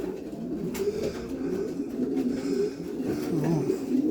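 Several pigeons in a loft coo softly and continuously nearby, deep burbling calls overlapping for several seconds with no voices.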